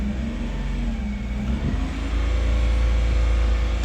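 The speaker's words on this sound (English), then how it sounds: "put it in gear, let the clutch out and give it a little bit of revs, and the bed will rise at various speeds" A 1999 Daihatsu Hijet 4WD dump truck with a five-speed manual gearbox, its small engine held at a steady idle-to-moderate rev in gear to drive the PTO bed lift, droning evenly and rising slightly partway through.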